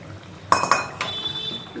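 A utensil scrapes and clinks against a cooking pan a few times as spices are stirred in, with two sharp metallic knocks followed by a soft, lingering scraping, close and fairly quiet.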